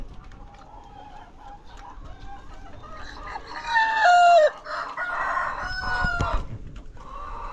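A rooster crows loudly nearby, one drawn-out call rising and falling, amid clucking hens and other farmyard noise.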